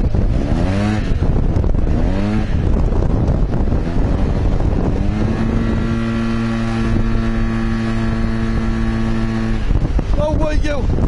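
A Yamaha TMAX 530 maxi-scooter fitted with Malossi parts revs and accelerates, its engine tone climbing and holding under wind buffeting while a rider talks loudly over it.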